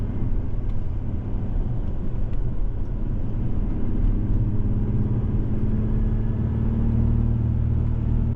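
Old Mazda car engine labouring steadily up a winding mountain road, a continuous low rumble with road noise, loud and close throughout with no talk.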